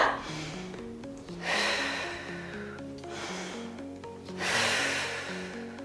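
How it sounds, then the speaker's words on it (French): A person breathes in and out during a pregnancy fitness workout, with two audible breath swells rising over steady background music in an indoor exercise session. "Inspire et expire."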